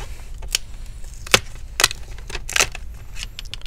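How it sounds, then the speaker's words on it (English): A plastic prying tool slices through double-sided tape under the screen bezel of an Alienware 17 R3 laptop, giving a few sharp scraping clicks and crackles at irregular intervals, close and distinct, with no talking. "I'm using the prying tool to cut open that double-sided tape"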